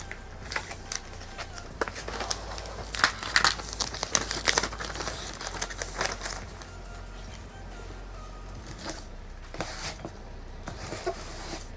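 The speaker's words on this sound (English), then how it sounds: "we usually do some kind of a transfer tape to transfer the image on" Sticky transfer tape being handled for a vinyl image, with close crinkling, rustling and peeling noises in irregular bursts over a steady low hum.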